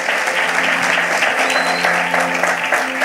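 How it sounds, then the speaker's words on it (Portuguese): Church congregation applauding warmly, a loud, sustained burst of many hands clapping together at an even level for several seconds, with no voices over it. "Uma salva de palmas pela vida do nosso sonoplasta."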